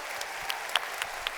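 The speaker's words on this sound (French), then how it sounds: "On peut les applaudir." Audience applause at an awards ceremony in a large theatre, greeting gold and silver prize winners; steady, fairly quiet clapping from a crowd with a few sharper claps standing out, no voices.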